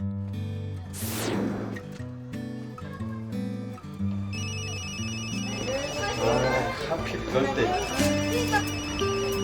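A mobile phone ringtone plays a repeating melodic tune, loud and near, while someone speaks briefly over it and a second layer of electronic tones joins partway through.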